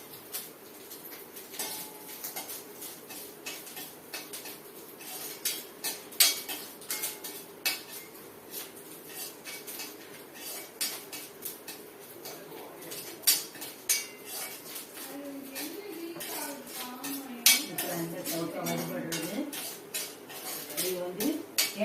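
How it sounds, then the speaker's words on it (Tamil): Grated coconut roasting in a pan as a metal utensil stirs it, making frequent close clinks and scrapes against the pan over a low background hum, with brief voices toward the end. "இப்போ கொஞ்சம் தேங்காயை வறுத்து போடுவோம்"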